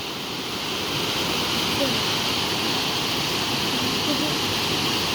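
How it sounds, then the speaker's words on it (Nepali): Hot spring water gushes steadily from an outlet in a cold, snowy mountain spot. It makes an unbroken rushing roar, close and fairly loud, with no clear talk over it. "यो चाहिँ तातो पानी आउने ठाउँ हो यहाँ चाहिँ सधैँ तातो पानी आउँछ"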